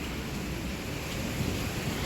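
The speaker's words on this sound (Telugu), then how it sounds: "గాలి గాలి గాలి అయితే వచ్చేసింది అన్నమాట." Strong wind blowing outdoors during a rainstorm, a steady loud broadband roar with buffeting on the microphone, continuous and close, with no talking.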